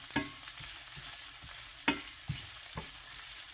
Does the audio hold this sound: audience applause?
no